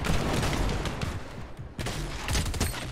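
Heavy shotgun blasts in Fortnite during a tournament fight, dense overlapping shots and impacts layered over busy game noise, loud and close with little pause between them.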